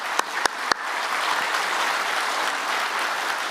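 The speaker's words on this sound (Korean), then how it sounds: "우리 감사와 존경의 마음 담아서 우리 감사의 박수," A church congregation claps in thanks for retiring elders, deacons and deaconesses, starting with a few sharp separate claps before swelling into steady, sustained applause throughout the hall.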